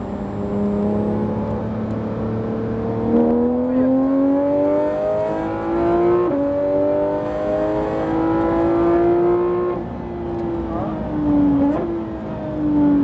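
Porsche GT3 RS engine pulling hard on the Le Mans Maison Blanche circuit, its note climbing steadily through the revs with sharp drops at gear changes, loud and continuous with a voice talking over it.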